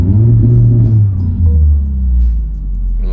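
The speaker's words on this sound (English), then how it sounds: "let's give it a little launch control" BMW M140i launching hard off traffic lights with launch control, a loud, close, deep engine roar and rumble that holds steady then surges as the car pulls away, no talking over it.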